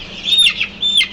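Young Sonali chickens, about 22 days old, give two short, high, close chirping calls, each a quick rising-and-falling peep, over a quiet background with no talking.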